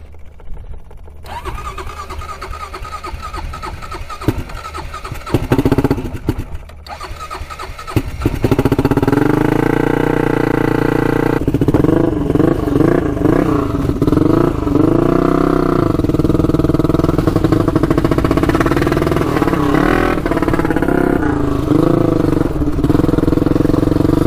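A turbocharged Honda 400ex ATV engine cranks and catches, then runs loudly with a steady, surging idle and revving, preceded by clatter and brief quiet gaps before the engine settles into continuous running.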